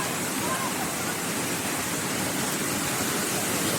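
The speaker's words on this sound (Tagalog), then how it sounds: "Pagkapasok nyo po, may fountain." Continuous splashing hiss of a water fountain in Hong Kong Park, a steady, even wash of falling water close by with no breaks.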